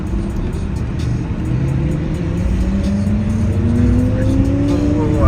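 Several cars brake hard and engines rev on a road where camels cross, a loud continuous roar of motors and rising tire whine building over about five seconds, close by.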